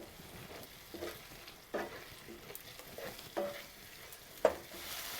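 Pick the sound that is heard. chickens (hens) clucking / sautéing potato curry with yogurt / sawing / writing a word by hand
sautéing potato curry with yogurt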